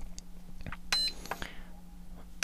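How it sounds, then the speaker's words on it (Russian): An Imax B6 universal battery charger gives two short, sharp beeps about a second and a half apart, quiet, with faint handling noises between them. "В них можно этот звук отключать пищащий"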